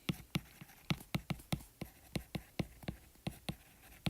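Chalk or marker writing equations on a board, a quick irregular series of sharp taps and strokes, close but faint, with no voice over them.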